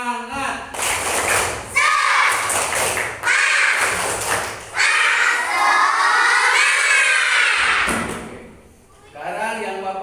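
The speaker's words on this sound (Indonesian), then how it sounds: "coba tepuk semangat" A classroom of students performs a rhythmic clapping chant, voices shouting in unison between loud bursts of patterned claps, with brief pauses between phrases.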